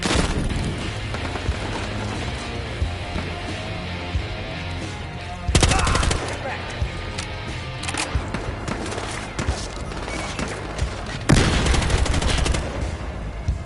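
Loud, dense gunfire from the video game Battlefield Hardline rattles almost nonstop in rapid bursts, with heavier blasts near 5.5 and 11.5 seconds.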